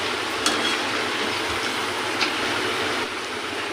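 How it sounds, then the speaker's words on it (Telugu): Drumstick (moringa) pieces frying in oil in a pan, a steady close hiss and sizzle with a few faint clicks of stirring, no voices. "సగము ఉడికేంత వరకు వేయించుకోవాలి. చూడండి ఇలా వేగాలి."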